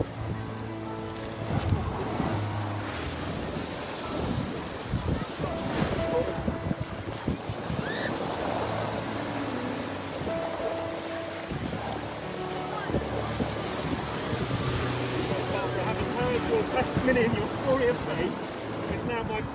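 Wind buffets the microphone over cold sea waves at a seaside baptism, surf washing and rumbling continuously while people speak intermittently beneath the gusty roar.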